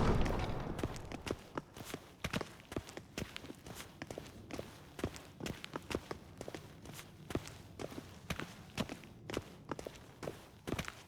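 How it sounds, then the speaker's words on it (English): Steady footsteps in The Witcher 3, a long run of crisp, evenly spaced steps on a hard floor, close and clear with faint room ambience and no talking. "Footsteps."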